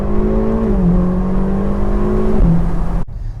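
Ferrari California T engine and exhaust revving at full throttle, a loud sustained roar with rising tones that shift pitch as gears change, then cut off abruptly.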